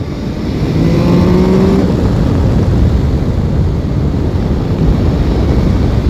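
A 2021 MV Agusta Turismo Veloce 800 RC SCS motorcycle engine-braking on downshifts through bends, heard as a steady, loud engine drone under wind rush, with a brief rising whine early on and no talking.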